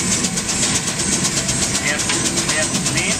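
The Minneapolis steam engine, the largest on a steam show ground, runs with a steady rhythmic chuffing beat under constant outdoor rumble, close and fairly loud.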